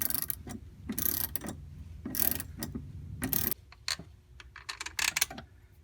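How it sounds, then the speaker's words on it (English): A half-inch ratcheting wrench clicks in bursts while tightening a Jeep Grand Cherokee ZJ/XJ transfer case shift linkage, loud rapid ratchet runs separated by short pauses, then lighter scattered clicks. "Tighten it down with your 1/2 inch ratcheting wrenches."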